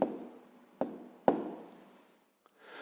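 Pen or pencil writing a number in a fifth-grade math exercise book: a few short scratchy strokes with pauses between, close and quiet, no talking.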